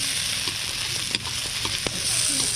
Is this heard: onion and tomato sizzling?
yes